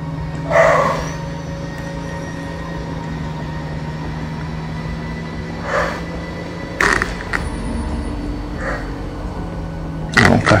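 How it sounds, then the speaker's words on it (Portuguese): A dog barks a few times in State of Decay 2, short spaced calls, moderately near, over a steady low game ambience with some faint clanking. "Um cachorro ali, depois de muito tempo, apareceu um cães familiares."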